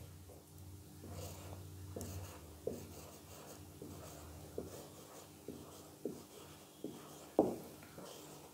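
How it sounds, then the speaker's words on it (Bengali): Handwritten sentences go down with quiet, rhythmic pen strokes and small taps roughly every second, set against a faint hiss with no speech. "তো চলো আমরা লিখি"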